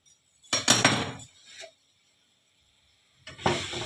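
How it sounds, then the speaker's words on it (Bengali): A steel tiffin box lid is pried open inside a steamer pot, giving two separate bursts of metallic clanking and scraping with a short hiss between them and a quiet pause. "এবারে আমি ঢাকনা খুলে দিচ্ছি"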